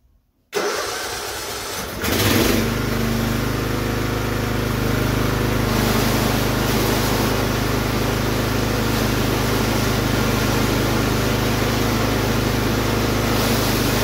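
A riding lawn mower's engine cranks and catches, then runs roughly and unevenly at a steady loud level for the rest of the clip, with no talking.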